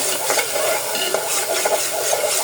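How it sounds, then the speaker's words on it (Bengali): Spices being sautéed in a pan, a close, fairly loud scraping and rasping stir over a light sizzle, continuous for a couple of seconds. "এখানটাতে আমি মশলাগুলো কষাই নিচ্ছি"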